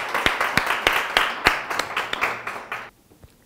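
An audience applauds in a studio, a brisk burst of many hands clapping close by that fades out after about three seconds.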